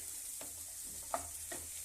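A faint, steady sizzle of paneer kofta gravy frying in a pan, with a few soft scraping stirs and one small tap.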